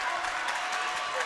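A crowd at a Greenwood High School basketball game against Bowling Green roars and claps in a steady wash of noise, moderately distant and soft, with a voice talking over it.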